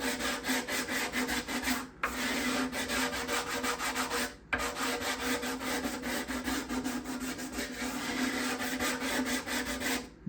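Steady back-and-forth sanding strokes on the wooden back binding of a guitar, a close, continuous gritty rasp with two brief pauses, heard alone with no talking.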